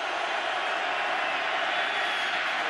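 A packed NFL stadium crowd at a 2010 Rams–Seahawks game roars steadily at full volume on a third-and-eight play, a dense, unbroken wash of distant cheering with no break.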